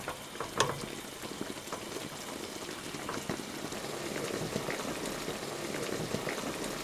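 Fish braising in a pot of Vietnamese kho liquid, a steady bubbling simmer with soft pops and crackles that fills the whole stretch at close range, with no voices.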